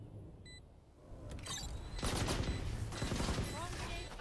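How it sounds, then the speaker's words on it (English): A Swarm grenade bursts in the game Valorant, giving a run of rapid crackling blasts that swell and hold as a dense, rattling fusillade. "Swarm grenade out."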